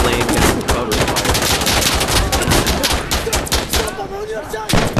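Rapid automatic gunfire from the video game Insurgency Sandstorm, loud, dense bursts of shots filling the whole stretch with barely any pause.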